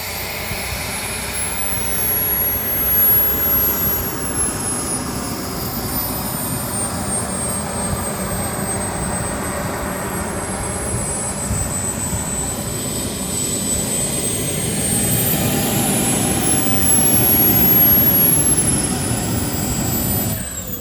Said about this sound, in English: BBM Desperado Jet Cat 300 Pro.